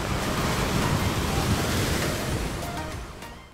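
Sea waves washing against a rocky shore near Jaffna, a continuous broad roar of surf with wind, steady and close before fading slightly at the end.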